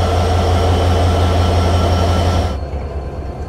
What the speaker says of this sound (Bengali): আন্তনগর কপোতাক্ষ এক্সপ্রেস তার যাত্রা শুরু করলো